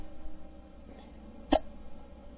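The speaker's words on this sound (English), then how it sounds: "I have this case of hiccups that just won't quit." A single sharp hiccup pops out loud and close midway through, with a fainter catch of breath just before it, against a quiet low hum with no talking.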